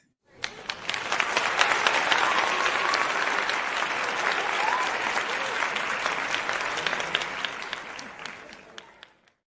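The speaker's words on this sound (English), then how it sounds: "I gotta give you applause." A live audience applauds a special guest, the clapping rising quickly to a dense, steady roar, holding for several seconds and then fading to silence.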